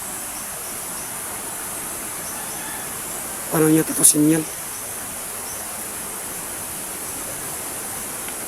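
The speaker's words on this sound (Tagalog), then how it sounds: "May tubig pa na sumisiri ito." Water keeps flowing with a steady, even hiss throughout, and a single voice speaks briefly midway over it.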